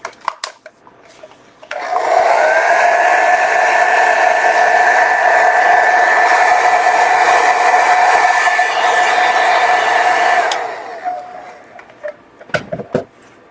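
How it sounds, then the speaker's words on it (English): A handheld blow dryer drying wet watercolor paint on a Valentine card whirs loudly and steadily for about nine seconds, switching on and off abruptly with quiet before and after. "let me just dry it quickly with my blow dryer"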